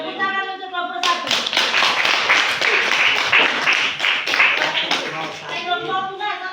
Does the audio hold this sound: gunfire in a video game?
no